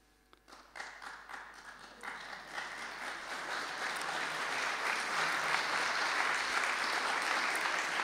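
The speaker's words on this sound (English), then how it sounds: "Would you applaud more strongly as part of yourself?" An audience at a talk on handling emotions breaks into applause that starts sparse with a few claps, then swells into steady, dense clapping that keeps building and holds strong to the end.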